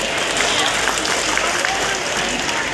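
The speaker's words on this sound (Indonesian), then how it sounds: "Tepuk tangan untuk beliau." An audience at a formal agricultural gathering in Aceh breaks into applause, a dense, steady wash of clapping from many hands with crowd murmur underneath.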